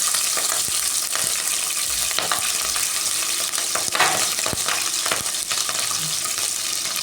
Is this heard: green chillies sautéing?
yes